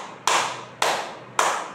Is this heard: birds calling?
no